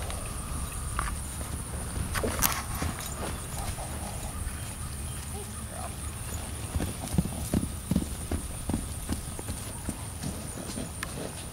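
A Hanoverian Appaloosa cross filly walks on pasture ground, her hooves landing in soft irregular thuds close by, with faint wind and background noise.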